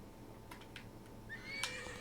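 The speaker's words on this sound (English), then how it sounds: "Okay, here's my horse." A horse in the Disney Infinity video game whinnies clearly, a rising neigh following faint hoof clip-clops over quiet game ambience.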